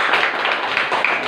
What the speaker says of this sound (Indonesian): Tepuk tangan untuk Azam.